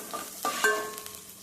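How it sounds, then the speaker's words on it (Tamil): Fennel seeds and fenugreek sizzling in hot cooking oil for a fish curry, a soft steady frying hiss with a couple of brief stirring scrapes, close and fairly quiet, no voices. "இப்போ குக்கிங் ஆயில் சேர்த்துருக்கேன், சோம்பு, வெந்தயம்."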